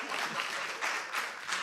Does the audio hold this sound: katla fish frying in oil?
no